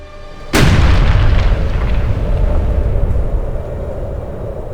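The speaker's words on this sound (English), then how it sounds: "a powerful explosion occurred" One sudden, powerful blast aboard the Japan Air Lines Flight 123 airliner erupts after a moment of low rumble, then a long, heavy roar slowly fades, loud and close.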